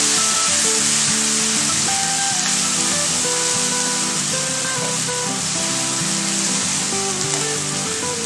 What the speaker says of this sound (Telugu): మసాలా బాగా వేగాలండి